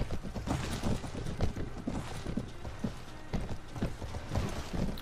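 A horse in Mount and Blade Warband trots at a steady rhythm, its hoofbeats clopping close and clear over a faint windy bed, with no talk.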